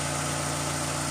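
A 2011 Toyota RAV4 2.5 engine idles steadily up close at about 980 RPM, a constant low hum with even mechanical drone and no other sounds.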